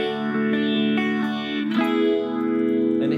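An electric guitar on the neck pickup into a Deluxe Reverb-style amp, run through a Dark Side pedal set to its phase and univibe side, plays a slow swirling arpeggiated figure with warbling, pulsing modulation, clear and alone.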